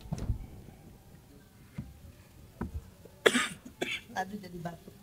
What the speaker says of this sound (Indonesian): Aduh jadi batuk.